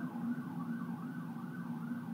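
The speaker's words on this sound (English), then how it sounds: "A siren went by." A wailing siren rises and falls steadily with the low rumble of a passing vehicle, heard at moderate distance with no talking.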